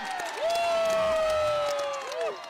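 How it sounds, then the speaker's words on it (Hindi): A crowd at a local cricket final claps and cheers outdoors, with sustained applause under a loud gliding whistle-like tone and scattered shouts. "थोड़ा तालियों के साथ सपोर्ट दिखाएं"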